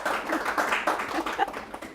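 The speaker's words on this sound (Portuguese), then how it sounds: "Eu gosto das palmas." Scattered clapping from a small group of people gathered for a reading, an uneven burst of claps at moderate loudness lasting a couple of seconds.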